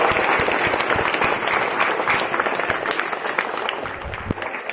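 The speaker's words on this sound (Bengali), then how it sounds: "হাততালি দাও, হাততালি দাও।" A crowd of school students applauds at a school Independence Day flag ceremony, a dense, steady roll of many hands clapping that carries on for several seconds and slowly thins toward the end.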